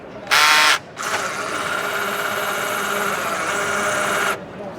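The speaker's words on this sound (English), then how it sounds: "so you can use an ordinary drill" An ordinary cordless drill drives a geared trailer jack raising a trailer loaded with about 1,000 pounds, giving a short sharp burst followed by a steady, even whirring grind for several seconds that stops abruptly, close and loud.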